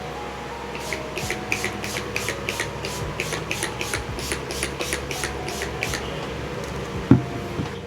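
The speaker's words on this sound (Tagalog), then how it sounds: "Then I set everything with the Urban Decay All Nighter Setting Spray." Urban Decay All Nighter setting spray misted close up in a rapid series of about a dozen short, evenly spaced pumps, each a soft hiss, with a light tap near the end.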